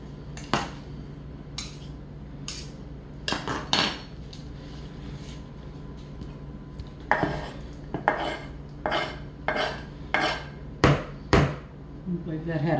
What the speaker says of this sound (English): And then you see I'm just rough chopping them.